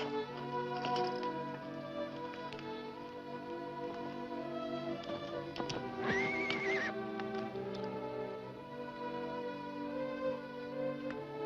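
Horses at a frontier ranch whinny, one loud neigh standing out midway, over steady hoof clip-clop and a bed of orchestral music.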